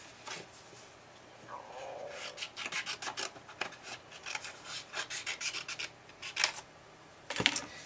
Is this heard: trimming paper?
yes